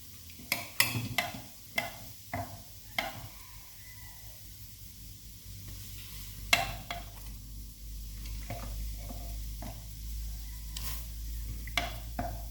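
Liquid is ladled into a pot of Thai tom yum pork leg, soft intermittent clinks and splashes of a ladle against the pot over a low background hiss, close and without speech.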